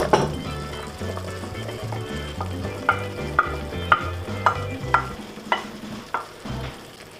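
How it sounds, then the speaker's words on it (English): Butternut squash frying and being stirred in a pan, a steady sizzle under a row of about eight sharp spoon scrapes and clinks in an even rhythm, close and clear with no talking. "Now I'm going to add the butternut squash."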